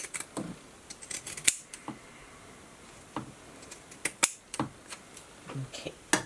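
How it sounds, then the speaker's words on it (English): Tight pinking shears snip through fabric while sewing a diamond-shaped filter face mask, making a series of close, sharp metallic crunching cuts in irregular bursts with quiet pauses between them. "These pinking shears are just a little bit tight."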